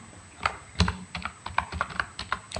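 Quick typing on a computer keyboard, a rapid run of close, crisp key clicks at an uneven rhythm, alone with a faint steady hum behind.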